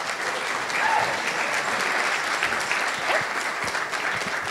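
An audience applauds steadily at a speaking event, a dense, even wash of clapping at moderate volume with no talk over it.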